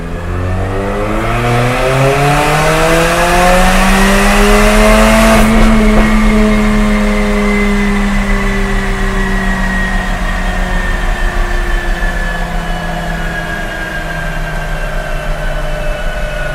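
A Mercedes-Benz CLA45 AMG with an Armytrix valved exhaust, valves open, makes a loud third-gear pull from 2500 to 6500 rpm. The engine note climbs steadily in pitch, a harsh, rising roar held close for the whole run.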